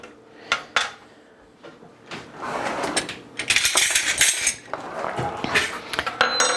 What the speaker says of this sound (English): I got to get a measuring spoon here.